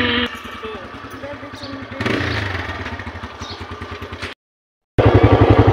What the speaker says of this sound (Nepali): हेर अब चाहिँ हामी जान लाग्यौं कतिवटा एउटा दुईटा तीनटा चारटा बाइकमा